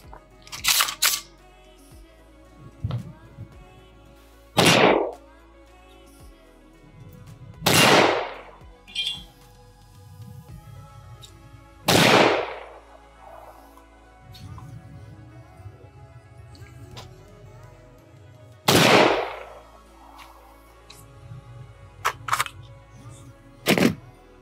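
Unsuppressed rifle shots fired with a WMD Guns NiB-X bolt carrier group, several sharp loud cracks spaced a few seconds apart, each with a brief echoing tail over quiet outdoor background.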